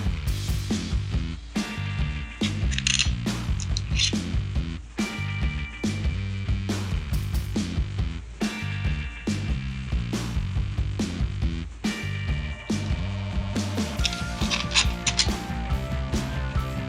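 A ratchet tightens bolts on the carburetor cover of a Cub Cadet BC280, a steady run of close, rapid metallic clicking and whirring that continues without pause, with no talking.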